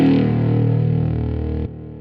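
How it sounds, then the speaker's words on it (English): A thick, harmonically rich amp-emulation distortion guitar tone sustains steadily, then drops abruptly to a quieter, thinner ringing tail near the end. "a great amp emulation, which can be used for many more things than just an amp."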